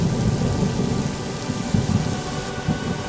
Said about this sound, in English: Thunder boomed, shaking the earth beneath my bed.